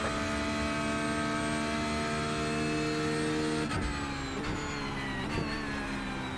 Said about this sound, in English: Looks like you're finally getting full throttle now.